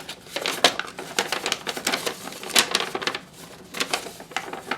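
Scissors snip a slit into folded paper for a zine, a quick run of close, crisp cuts and rustles in an uneven rhythm with no talking.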